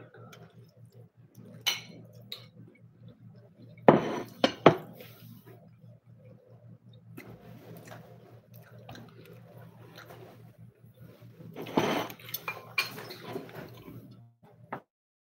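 Pots, dishes and cutlery clink and clatter in scattered bursts while someone tidies up after cooking, with a couple of louder clusters of rattling against a low steady hum.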